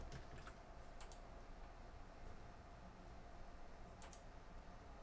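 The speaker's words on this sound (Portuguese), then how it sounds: "digitar a senha que eu criei na instalação" A few faint, scattered keystrokes on a computer keyboard sound as a password is entered, in small clusters separated by quiet, with no talking.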